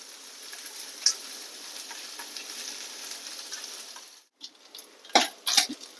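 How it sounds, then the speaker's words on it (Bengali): Dried fish (shutki) sizzles and fries with onions in a hot pan as part of bharta preparation, a steady close hiss broken by a brief pause and then a few louder spatters and stirring clatters near the end. "এই যে শুটকি ভাজা ভাজা হয়ে গেছে"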